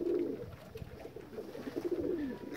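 Soft, throaty cooing from homing pigeons, a low rolling coo repeated nearby over a faint background, with no talking.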